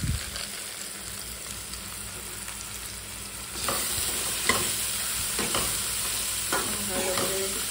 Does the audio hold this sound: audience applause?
no